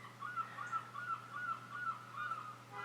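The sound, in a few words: seagulls calling outside an open window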